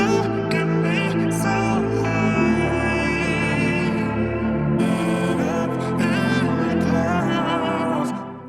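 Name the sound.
dark ambient R&B sample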